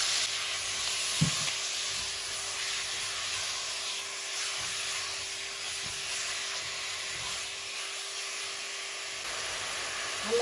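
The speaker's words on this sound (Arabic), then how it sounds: "هلا بحط السفاين، صدر الدجاج" Chicken breast sizzles and fries in a pot with onions, a continuous close, moderately loud hiss with one brief clink of the pan early on.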